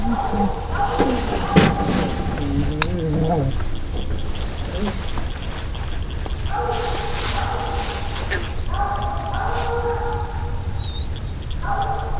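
A hunting hound barks and bays in several bursts, some drawn-out and tonal, over steady outdoor background noise, with a voice briefly heard.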